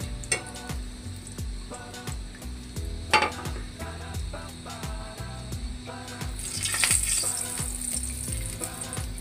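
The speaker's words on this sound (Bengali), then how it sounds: "এই বাটি চচ্চড়িতে কিন্তু গোটা জিরেই ফোড়ন দিতে হবে বন্ধুরা।" Whole cumin seeds sizzle in hot oil while being stirred, a close, steady frying crackle broken by rhythmic scraping and metallic clinks of a utensil against the pan.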